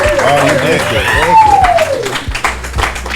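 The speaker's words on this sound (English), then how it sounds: "Big round of applause for Andrew." Audience at a live comedy podcast taping at an adult summer camp claps and cheers, with a rising and falling whooping voice over steady clapping and a crowd murmur close by.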